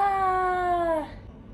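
A single drawn-out cat meow, loud and close, lasting about a second before fading into quiet room noise.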